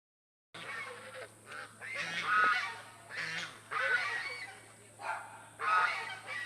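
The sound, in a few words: geese honking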